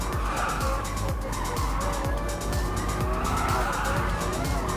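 A Corvette muscle car in Gran Turismo Sport roars steadily under hard driving, with repeated tire skids and squeals layered over the constant engine drone.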